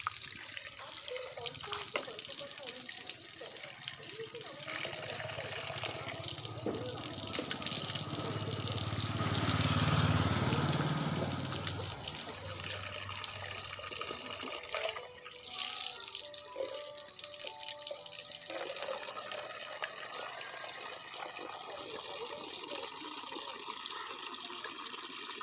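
Water runs steadily from a tap filling a bath, a continuous hissing splash that swells midway and carries on throughout, with faint background noise.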